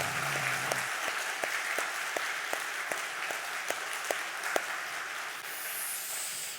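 A church congregation at a Sunday service claps in a steady, rhythmic beat, the even claps fairly loud and close, with the applause thinning toward the end.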